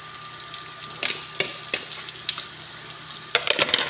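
An egg is dropped into a hot frying pan and sizzles, with crackling spatter that runs throughout and a brighter burst of frying near the end, close and fairly loud.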